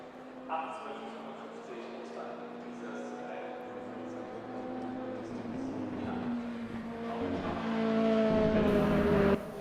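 A Mazda MX-5 race car engine in the RaceRoom racing game drones steadily through a corner, its tone rising toward the end, while a commentator talks over it throughout.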